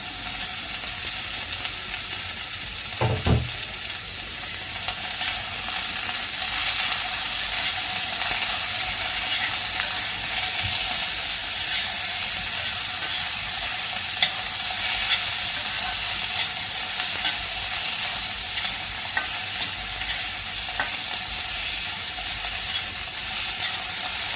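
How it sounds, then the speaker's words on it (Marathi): Tomatoes and chopped coriander sauté in a pan for spicy Maharashtrian sev bhaji, giving a steady close sizzle with soft stirring scrapes and one low clunk early on, and no voices. "आता यामध्येच आपल्याला घालायचं आहे टोमॅटो आणि कोथिंबीर घालायची, ती देखील परतून घ्यायची."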